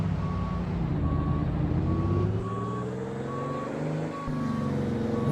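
A big rig reverses in a trucking video game, its backup alarm beeping at an even pace over a loud, wavering diesel engine that revs up and down.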